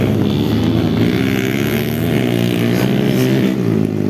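Enduro motorcycle engines roaring steadily through a local race final, a dense, continuous buzzing drone with rising and falling revs as bikes power over the course.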